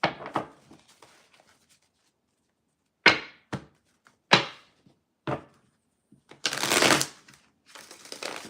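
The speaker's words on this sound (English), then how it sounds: "We'll do some quick little shuffling really quick" Tarot cards are shuffled in short, crisp bursts of riffling and slapping, close and fairly loud, separated by silent gaps, with a longer rustling riffle near the end.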